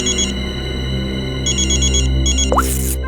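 A telephone rings in a steady electronic pattern, its repeated bursts continuing close and loud while an ambulance is being called, with a brief rising chirp near the end.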